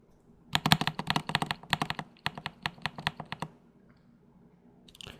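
Rapid keyboard typing, close and crisp, a flurry of clicks that slows into separate keystrokes before stopping, then one faint rustle at the end.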